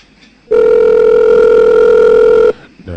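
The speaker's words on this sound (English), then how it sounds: "Internet was ringing, so that means he's not online." An internet phone call ringing tone sounds as one loud, steady electronic tone lasting about two seconds, starting and stopping abruptly, with quiet background before and after.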